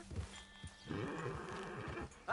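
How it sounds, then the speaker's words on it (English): A horse whinnies in the Red Dead Redemption 2 game on PS5, a short wavering neigh rising after a brief lead-in of hooves and rustle, fairly loud and close, with no talk over it. "Hey, that's a nice-looking horse you have there."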